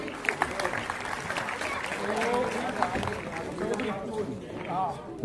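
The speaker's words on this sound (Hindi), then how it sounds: "तालियां बजाओ भाई, लास्ट है, अभी खत्म हो रहा है।" An audience claps at a student merit award and career guidance ceremony as results are read out, with fairly quiet applause running beneath an announcer's voice and other chatter.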